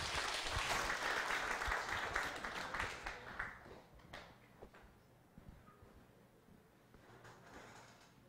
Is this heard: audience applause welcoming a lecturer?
yes